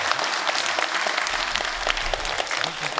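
Audience applause welcoming a former judge onto the stage at a special lecture at Seongnam City Hall, a steady, dense clapping from a sizeable indoor crowd that holds evenly throughout with no one speaking.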